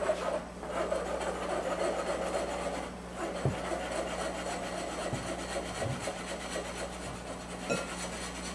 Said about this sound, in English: just stir it and sift it